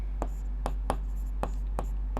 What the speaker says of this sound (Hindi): तो देखिए लिखेंगे